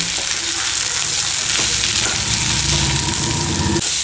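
Drumsticks frying in a pan with chili powder and salt while being stirred, giving a steady, loud, continuous sizzle with faint scraping of the spoon throughout, no talking.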